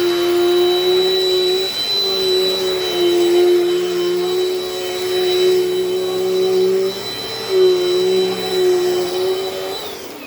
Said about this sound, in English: It's been a while since I vacuumed